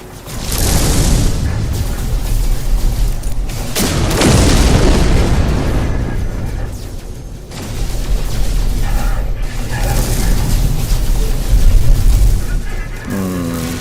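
Rocket explosions in No Man's Sky space combat near a freighter, a series of loud booming blasts and rumbling bursts that fill the whole stretch, swelling and fading one after another.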